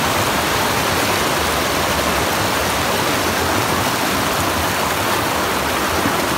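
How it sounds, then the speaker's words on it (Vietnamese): Rushing water from a clear, cool forest stream, a loud, steady broadband flow close by that holds constant throughout with no voices. "Suối nước mát, trong mát được các bạn ơi."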